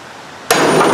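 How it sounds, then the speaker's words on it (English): A single sharp hammer strike rings out as a brass punch is driven against a pin stuck in a bush hog, the metallic clang hitting loudly after a quiet half-second and sustaining briefly. "let's get onto it here with a brass punch, one of my newly fixed hammers"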